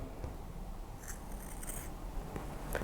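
Scissors snip through the fabric of face masks in a few short, crisp cuts, close and fairly quiet over a steady low background rumble.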